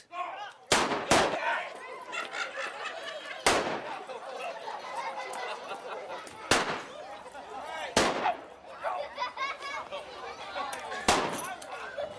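Sharp blank gunshots from an Old West gunfight reenactment staged for tourists in Oatman, Arizona, six loud single cracks spaced a few seconds apart, with crowd chatter and voices continuing between the shots.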